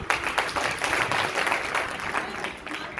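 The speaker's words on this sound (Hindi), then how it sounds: "तालियां थोड़ा जोर से बजा दीजिए।" A room of trainees at a training event gives a dense round of applause, many hands clapping steadily and fairly close for about three seconds with no break.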